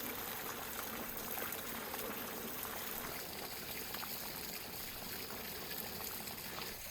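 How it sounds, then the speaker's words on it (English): Lamb simmering in broth for beshbarmak, a steady soft bubbling and watery rush that holds evenly for several seconds with no talking over it. "Now that the lamb is simmering away, let's shift our focus to the vegetables."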